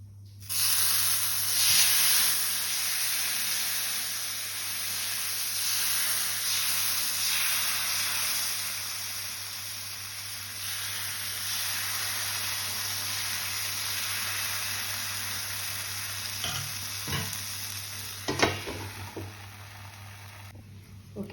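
Ragi dosa made from finger millet batter fries in oil on a hot pan with a steady, close sizzling hiss, with a few faint scrapes and taps near the end.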